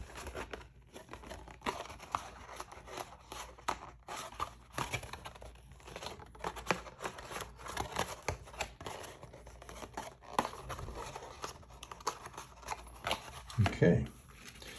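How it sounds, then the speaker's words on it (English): Cardboard gusset pieces of a folding carton mock-up being pushed and folded inside, a run of soft crinkles, scrapes and taps close by, with a person talking at times. "So I'm just going to push them in, get that to fold nice inside."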